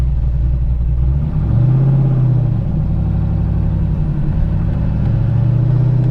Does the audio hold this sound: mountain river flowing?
no